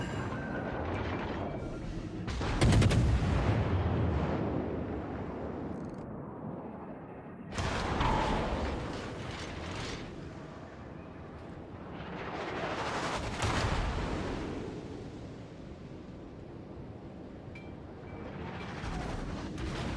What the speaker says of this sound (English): Why is this guy firing AP at me?